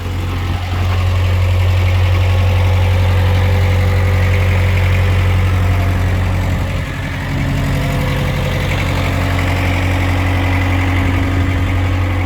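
A Mitsubishi MXR35 mini excavator's engine runs steadily and loudly nearby, a constant low idling drone with a slight shift partway through and no voices over it.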